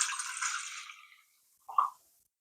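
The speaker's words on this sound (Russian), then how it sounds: "В большую емкость я вылью воду" Water pours into a large bowl for Turkish döner bread dough, a soft hissing splash for about a second that fades out, followed by a single short drip or plop in quiet.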